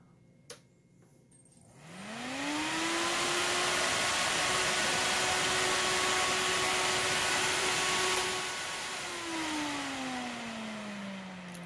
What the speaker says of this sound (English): this would be about how much noise you could expect for 250 cubic feet of air a minute out of